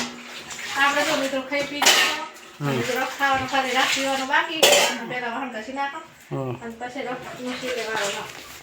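A child scrubs and washes dishes at home, with steel pots and utensils clattering and clinking in repeated bursts while people talk over it throughout.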